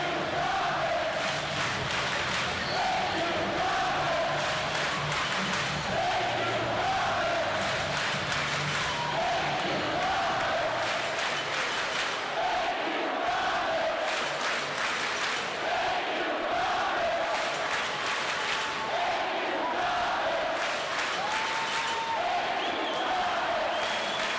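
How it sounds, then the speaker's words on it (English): A hockey arena crowd roars after a Calder Cup championship win for the Manchester Monarchs, a sustained, loud wash of cheering and applause with rhythmic chanting swells over more than twenty seconds. "the crowd is all you need to hear right now"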